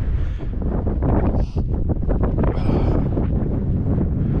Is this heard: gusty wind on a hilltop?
yes